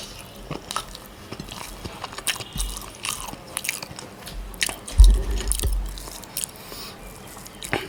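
Hot white rice eaten with spicy bharta, close up, with wet squishy chewing, lip smacks and occasional light clicks of cutlery or dishes in an irregular rhythm, no talking.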